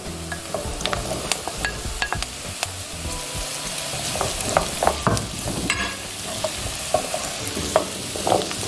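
Peeled, chopped pumpkin sautéing in a pan with garlic for a Jamaican-style vegan cream of pumpkin soup, with frequent scraping stirs and clatter over a steady sizzle, close and fairly loud.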